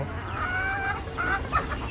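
Desi chickens cluck and squawk in short, scattered calls, fairly close, over a steady low background rumble.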